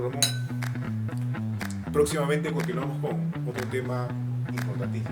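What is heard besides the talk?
glasses clinking in a toast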